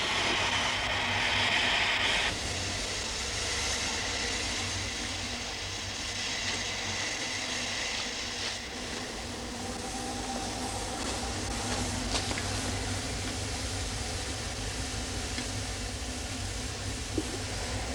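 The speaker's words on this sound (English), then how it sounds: "Under the boiler and cab of this loco, and that's long, it's almost as long as a passenger coach, are two bogies. Both bogies steam-driven." A long Fairlie steam locomotive with two steam-driven power bogies under its boiler and cab runs steadily, a continuous rumbling, hissing roar with a brief higher whistle-like tone at the start, heard alone without talk.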